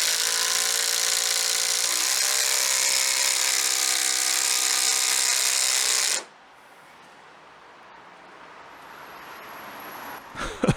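A RIDGID/AEG sub-compact impact driver drives a Phillips screw into roughly 100-year-old Australian hardwood, a loud steady high whir with hammering buzz for about six seconds, then stopping abruptly into near silence.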